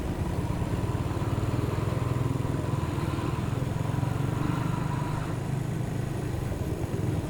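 Motorcycle ridden along Sukhumvit Road in Bangkok, its mid-pitched engine droning steadily and loud throughout with a constant rumbling pulse, the city's traffic hum underneath.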